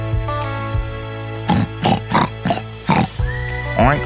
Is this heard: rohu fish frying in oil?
no